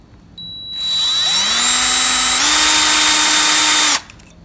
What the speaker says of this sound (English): got the rivet in there, and a drill with a 5/32 bit